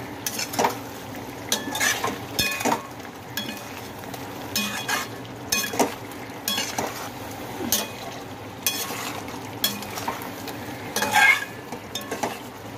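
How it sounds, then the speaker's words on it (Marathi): Dried fish being stirred and fried in oil with home-made spice masala in a pan, a spoon scraping and clinking in repeated strokes over a steady close sizzle, with no voices. "मस्त असं हलवून घ्यायचे चांगली ही तेलामध्ये."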